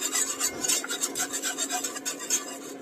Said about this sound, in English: we're going to stir so it doesn't get lumpy